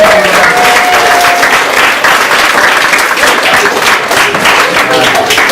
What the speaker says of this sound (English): So can we give Marie a big round of applause?